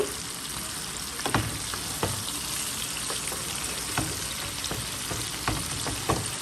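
Okra and shrimp are stirred in a hot frying pan with spices, giving a constant loud sizzle broken by regular scraping clicks of the spoon, with no voices.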